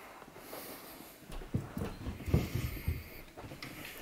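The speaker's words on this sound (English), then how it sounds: "Why do you keep barking, man?" A dog at home in the evening gives a few short, irregular barks and snorts, close and moderately loud, over a quiet room.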